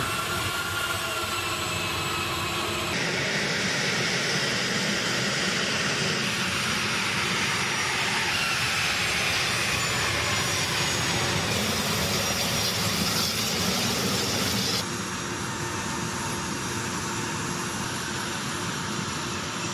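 A steady, loud A-10 Warthog jet engine roar fills the whole stretch, broad and rushing, with slight shifts in tone as it passes overhead.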